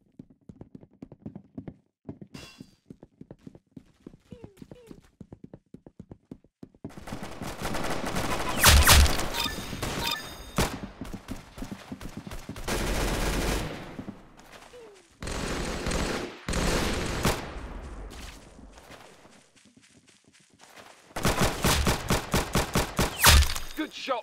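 Gunfire in a video game shooter: scattered sharp shots early on, then loud bursts of rapid automatic fire in several clusters, with stretches of quieter game sounds between them.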